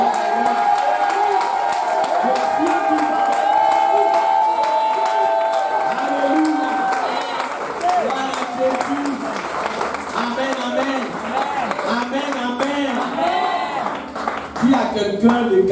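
Church congregation clapping and cheering in praise of Jesus, a sustained wash of applause and crowd noise with voices mixed in throughout.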